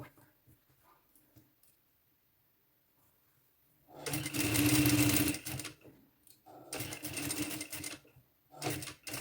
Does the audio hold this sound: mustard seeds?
no